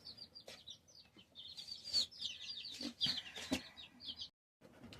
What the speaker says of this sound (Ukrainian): не знаю, що це за курочка, яка це порода